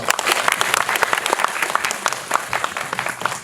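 A film screening audience at the Busan International Film Festival applauds after a guest talk for the film Vertigo, a dense, steady wash of many hands clapping throughout, fairly close and loud, with no clear talk over it.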